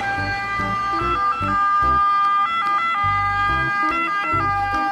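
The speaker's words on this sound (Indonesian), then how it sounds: "Wow, di sini ada mobil ambulans." A toy ambulance sounds a loud, close siren with a repeating two-tone wail, punctuated by pulsing low electronic beeps.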